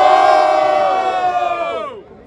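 Loud crowd roars and cheers at a Brazilian freestyle rap battle semifinal, a dense sustained burst of shouting voices that holds steady for about two seconds, then cuts off abruptly.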